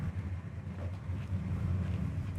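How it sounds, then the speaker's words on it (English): Low, rumbling V8 engine of a 1967 Ford Fairlane 500 XL idles with a steady throb, slightly uneven and choppy in rhythm, heard close with some wind noise. "it's got a nice little choppy idle to it."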